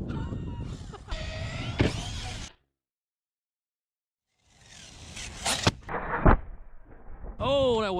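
An ARRMA TLR Typhon 6S RC car whirs up, goes quiet in the air, then comes down on asphalt with a loud, sharp crash and skittering rattle, followed by a voice.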